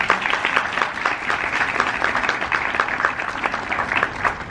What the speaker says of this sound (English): Can we just give Anaja a hand clap